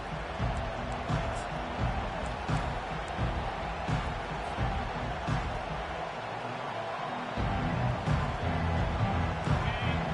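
A college football stadium crowd roars in a constant, loud wash of cheering and noise for the full stretch, with a brief dip in the low rumble partway through.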